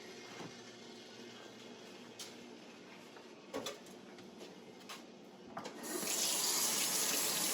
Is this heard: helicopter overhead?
no